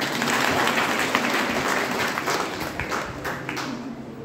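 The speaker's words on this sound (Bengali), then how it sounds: "স্যারকে প্লিজ আরেকবার সবাই একটু হাততালি দিন" An audience at a one-day national-level seminar applauds in a dense, even burst of clapping that holds steady for about four seconds before easing slightly.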